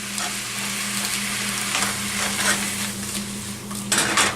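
Shrimp sizzle steadily in a hot frying pan for gambas, a continuous loud frying hiss with stirring scrapes and a brighter burst near the end, no voices.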